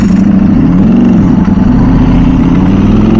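A motorcycle fitted with a costly aftermarket exhaust drones loudly and steadily at a low idle, close to the microphone, with no talking.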